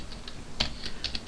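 Quiet, steady tapping on a computer keyboard, a run of light irregular keystrokes with one slightly sharper press, no voices.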